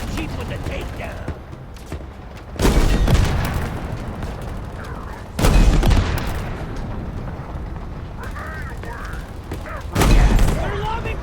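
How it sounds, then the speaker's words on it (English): Repeated grenade blasts and gunfire in Halo during a vehicle battle near a Wraith, three heavy booms landing several seconds apart over continuous background combat noise, with a player talking throughout. "They're lobbing grenades!"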